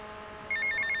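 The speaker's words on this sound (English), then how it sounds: "we should be getting a phone call from somebody" A phone rings in the video game GTA Vice City, a bright electronic trill that starts about halfway through and repeats in short even pulses over a low game ambience.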